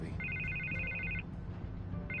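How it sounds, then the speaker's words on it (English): Telephone ringing in The Batman video game, two electronic ring bursts with a pause between them, fairly quiet over background ambience. "I can't get the phone to stop ringing."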